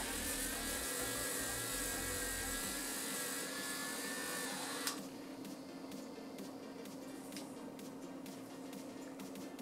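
A Stylpro makeup brush cleaner spins a brush dry with a loud, high whirring motor for about five seconds, then cuts to a quieter, steady hum with faint ticking clicks.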